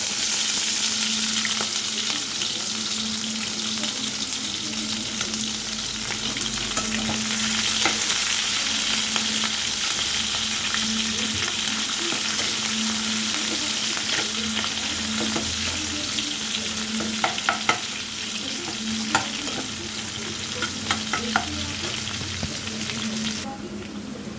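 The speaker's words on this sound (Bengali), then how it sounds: "এবার আমি দিচ্ছি পেঁয়াজ।" Onions hit hot oil and fry for a potato, pumpkin and pointed gourd vegetable curry, a loud, constant sizzle with the scrape and clatter of stirring now and then, sharper knocks near the end.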